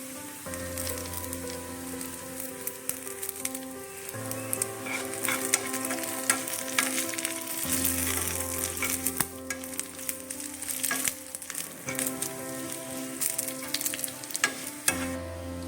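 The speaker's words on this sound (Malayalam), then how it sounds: "നമുക്ക് കടുക് താളിച്ചു ബീറ്റ്റൂട്ട് പച്ചടി റെഡി ആയിട്ടുണ്ട്" Mustard seeds, curry leaves, onion and dried chillies crackling and sizzling in hot oil for a beetroot pachadi tempering. The popping and spattering come in bursts over steady music.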